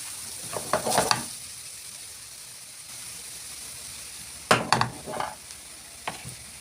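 Minced meat frying in a pan for béchamel pasta, with two bursts of scraping stirring and sizzle separated by a quieter stretch of low, steady frying.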